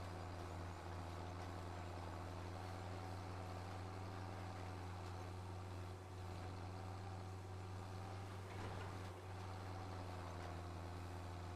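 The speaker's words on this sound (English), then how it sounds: "I do like the sound of this engine. It's a junky blue tractor" Steady low engine drone of a worn-out blue tractor in Farming Simulator 25, idling and running continuously at an even, loud level throughout with no talk.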